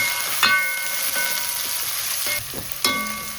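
Onions, curry leaves and green chillies sizzle in a hot pan for a Jaffna-style goat curry, a constant crackling hiss broken by a couple of sharp bursts as the ingredients are stirred or tossed, with no speech.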